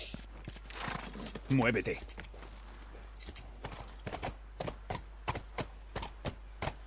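Horse hooves clip-clop in the video game The Last of Us, a steady run of evenly spaced hollow knocks that grows clearer after someone speaks a brief word in Spanish over them.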